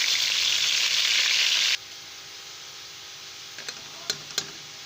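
Onion and green chili paste hisses in hot oil in a pan for a pea and potato curry. A loud, dense sizzle cuts off sharply after about two seconds, leaving a quiet background with a few faint ticks and clicks.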